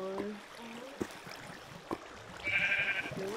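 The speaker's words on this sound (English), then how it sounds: "Don't resist, sheep." Minecraft sheep bleating in short game-sound calls, a few faint bleats spaced through the clip with a louder, higher one near the end, under quiet background noise and light clicks.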